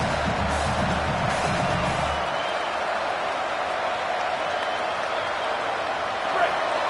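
A football stadium crowd roars in a broad, sustained wash of cheering, loud at first and then settling into a steady distant din, with talking over it.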